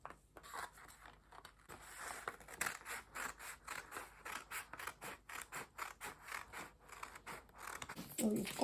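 Scissors snipping through fabric while cutting out a halter neck top, a steady run of close, rhythmic crisp cuts with short pauses, and a voice speaking at times over the work.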